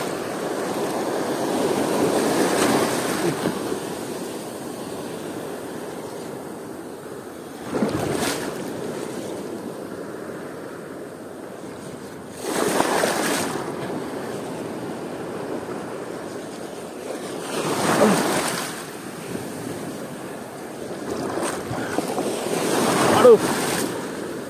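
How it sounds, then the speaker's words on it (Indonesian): Ocean waves at sea during a fishing trip for giant trevally surge and wash past a boat in repeated swells every few seconds, loud and close, with gusts of wind buffeting the microphone. "Ombak lagi."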